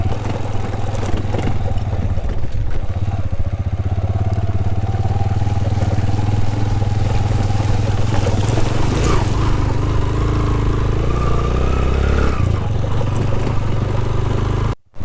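A motorbike climbs a mountain road toward Baha Lake (Khukush) near Shandur in Ghizer District, its engine droning loud and close with steady low rumble, occasional revs and rattling, continuing without pause until a sudden stop.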